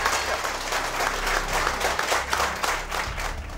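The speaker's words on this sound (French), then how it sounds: "J'aimerais que vous l'applaudissiez parce que c'est pas évident de me suivre." An audience applauds steadily at a French live event after a call to cheer a worksite helper, a dense, even wash of clapping that fills the whole stretch with no voices on top.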